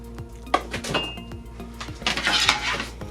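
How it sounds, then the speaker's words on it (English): A metal baking tray is picked up and set down in a home kitchen, giving sharp clanks and rattles amid lighter clinks of utensils, close and fairly loud, with a busier burst of scraping and clatter near the end. "Got my baking tray."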